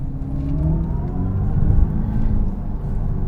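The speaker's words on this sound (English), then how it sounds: "this is the Scat Pack with 670 horsepower and frontonic sounds" An electric Dodge Charger Scat Pack with 670 horsepower plays its synthetic exhaust sound while driving, a loud, low, steady droning rumble that swells slightly mid-drive.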